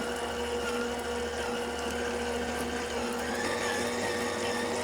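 Electric stand mixer kneading soft bread roll dough with butter added at a higher speed, a steady motor whine and hum that stays loud and even throughout without breaks.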